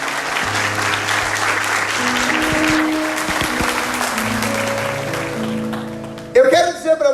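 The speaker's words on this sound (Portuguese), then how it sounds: "Vamos aplaudir a palavra de Deus com força." Catholic congregation at a sermon applauding vigorously, a dense, steady wash of clapping hands with sustained organ or keyboard chords underneath, ending as a voice begins speaking.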